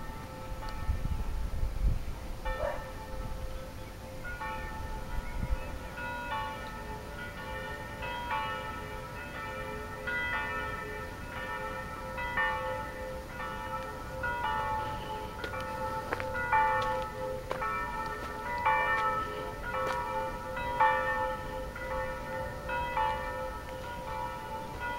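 A church bell rings repeatedly in a steady, unhurried rhythm, sounding somewhat distant across the open Chianti countryside among olive groves, with faint ambient hiss and no talking.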